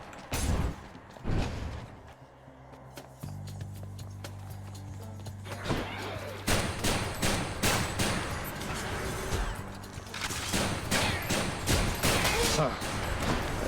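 A weapon firing in the action game Hades: dense, rapid impacts and blasts fill the second half over a steady tonal drone.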